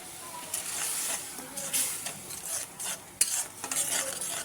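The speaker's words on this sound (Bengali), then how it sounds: "মশলাটা কষিয়ে নেব।" Turmeric and chili spices fry in a pan while being stirred, producing a soft background sizzle broken by irregular scraping and clinking strokes of the spoon against the pan, with one sharp knock near the middle.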